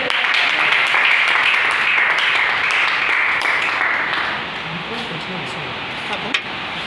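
Audience at a French-language sermon on the traits of a heroine applauding and cheering, a dense continuous wash of clapping that eases off after a few seconds as a voice carries on beneath.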